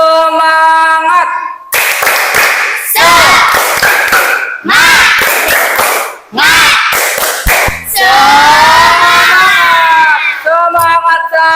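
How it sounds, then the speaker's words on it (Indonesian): A class of students in a classroom performs the 'tepuk semangat' clap chant together, with several loud bursts of rhythmic group clapping mixed with chanting voices, separated by short pauses. "Coba bareng-bareng, tepuk semangat."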